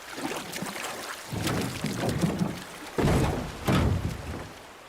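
Water sloshes and splashes in bursts as a boat is boarded after a dive rescue in a Korean audio adventure story, with rhythmic surges of movement close by and no voices.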